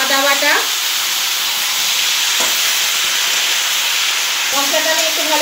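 Chilli and ginger paste frying hard in a pan for an amudi fish and vegetable curry, a loud, constant close hiss and sizzle, with a voice briefly over it at the start and end.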